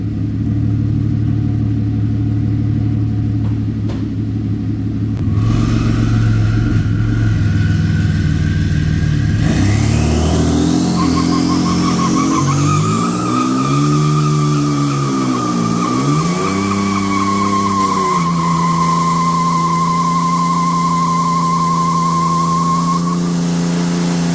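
A rear-wheel-drive Ford Taurus SHO does burnouts, its engine revving hard and climbing in pitch while tires squeal loudly and steadily, the screech rising and dipping over a sustained roar with no talking.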